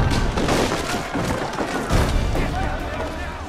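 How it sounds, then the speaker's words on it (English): Gunpowder barrels blowing apart in Assassin's Creed III, a dense roar of blasts and splintering wood with crackling debris that stays loud and continuous throughout. "it also gave us an opportunity to include some historical exploding barrels"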